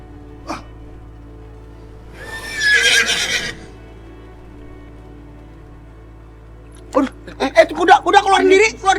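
A horse neighs in a drawn-out whinny amid a dramatic scene, followed by a sharper burst of snorting or whinnying near the end, with quiet gaps and a low steady hum between.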